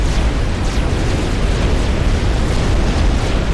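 Battleships blowing up in a large 4v4 real-time strategy battle, a continuous loud roar of overlapping explosions and rumbling booms with no break, no speech present.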